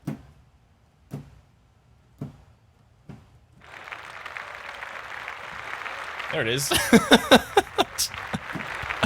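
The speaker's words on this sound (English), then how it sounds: "Okay, applause. There's the applause." Applause rises from a studio audience after a few sharp knocks, swelling into a steady wash of clapping that continues while people talk over it near the end.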